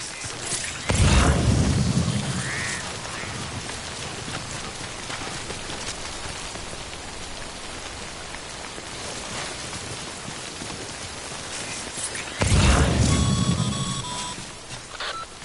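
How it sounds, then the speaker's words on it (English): Timefall rain in the video game Death Stranding, a steady broadband wash of falling rain throughout, with two louder surges near the start and end and faint electronic beeping tones. "Don't stay out in the rain any longer than you have to."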